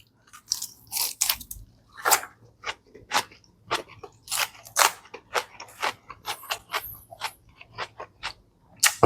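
Crisp, close biting and crunchy chewing of Pizza Hut food in Thailand, a steady run of sharp bites and mouth noises with no talking.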